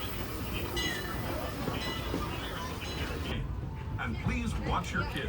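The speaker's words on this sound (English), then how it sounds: "So let's hop on the train again." The Disneyland Railroad train rumbles steadily along with a continuous rolling noise, while people talk nearby over the ride.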